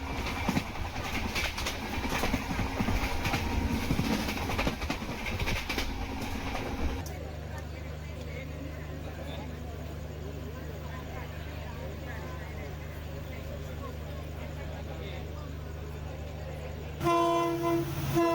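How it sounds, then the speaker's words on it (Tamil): The Tambaram to Rameswaram Express rumbles along the track with a steady low drone after a burst of noisy approach, then a horn blares briefly at the end; birds faintly present. "இந்த ட்ரெயின் தாங்க ஆப்போசிட்டில் வந்துட்டுருக்கு"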